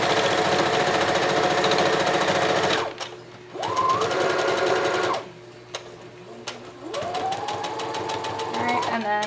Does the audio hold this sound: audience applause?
no